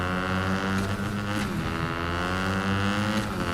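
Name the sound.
motor vehicle being driven in the video game Fortnite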